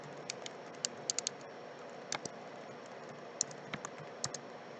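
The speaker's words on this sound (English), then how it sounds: "I'm typing that in the chat for you guys." Keys clatter on a computer keyboard in quiet, scattered bursts of light taps over a steady fan hum, with no voice present.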